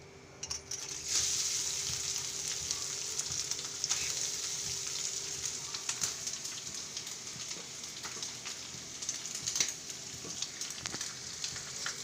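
Ghee sizzles and fries steadily in a pan while cooking fresh coconut barfi, a continuous crackling hiss with small pops that carries through the whole stretch without any talk.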